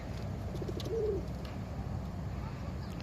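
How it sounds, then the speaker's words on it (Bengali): A faint pigeon coo rises briefly amid a steady background hum, with a few soft scattered clicks around it. "আস্তে আস্তে বেরিতেছে কবুতরগুলা মাসাল্লাহ"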